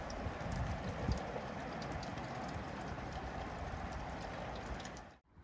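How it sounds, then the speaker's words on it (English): Steady rain falls in a garden as a faint, even wash of patter that continues unbroken, then cuts off abruptly near the end. "We're kind of fighting the rain. It's just starting again."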